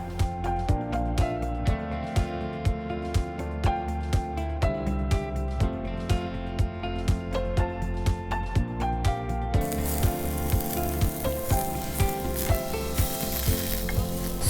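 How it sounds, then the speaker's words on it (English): Thinly sliced zucchini sizzles on a hot grill pan, a steady frying hiss running under loud rhythmic background music with a strong regular beat. "we will quickly grill the zucchini"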